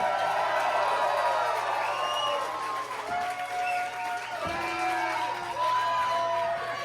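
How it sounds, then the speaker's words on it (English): A crowd applauds and cheers the competitors in the opening match of a professional wrestling show, with whoops, shouts and a commentator's voice over the noise. "Give them a big round of applause"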